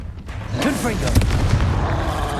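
A Confringo blasting spell in the Hogwarts Legacy video game erupts as a loud, booming blast with crackling echoes that ring out for a couple of seconds over a steady rumble.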